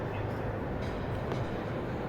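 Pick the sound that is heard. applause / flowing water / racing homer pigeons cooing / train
train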